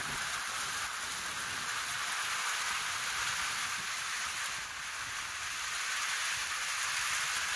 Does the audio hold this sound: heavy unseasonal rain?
yes